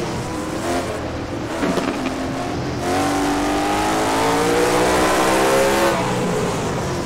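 Late model race car engine roaring around a short track at Jefferson Speedway, loud and steady with rising pitch as it accelerates through the lap, no talk.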